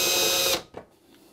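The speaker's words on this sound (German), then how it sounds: "Ich persönlich nehme immer zwei Schrauben und fixiere es einfach kurz." A power screwdriver drives screws into a wooden bee box: one loud, steady whirring burst that cuts off abruptly, followed by a faint click and near silence.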